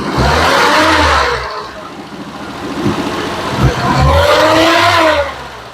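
A running engine, just started and stuttering at low revs, revs up and holds, the steady motor drone swelling loud near the start and again near the end with a quieter uneven stretch between; speech is picked up alongside it.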